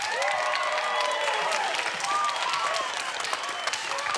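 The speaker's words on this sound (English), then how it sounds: "Let's thank our panel with a big round of applause." A studio audience applauds the panel at the close of a youth talk show, steady clapping with cheering voices and whoops threaded through, moderately loud and sustained.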